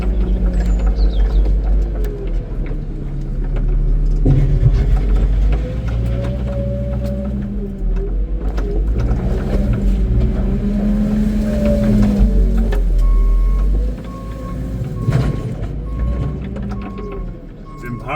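A tractor loader pushes up a pile of sugar beet on a farm. A steady, close diesel rumble with shifting revs runs throughout, broken by clunks and scraping, and a thin high whine appears near the end.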